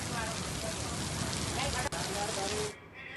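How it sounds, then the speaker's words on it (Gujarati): Heavy monsoon rain pours down in Ahmedabad, India, in a dense, hissing wash close by, then abruptly cuts away near the end. "પૂર્વ અને પશ્ચિમ વિસ્તારમાં વરસાદ શરૂ થઈ ગયો છે"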